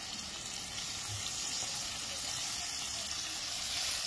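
Paneer cubes frying in hot oil, part of a home-style ISKCON recipe, give a steady, soft sizzle that runs evenly throughout without voices.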